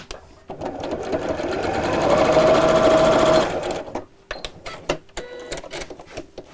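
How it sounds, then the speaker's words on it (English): A sewing machine stitching a half-inch seam on fabric bag pieces, running in a steady rising whir for a few seconds before stopping, followed by scattered clicks and handling noises, close and clear. "with a 1/2 inch seam allowance, we're going to sew down here"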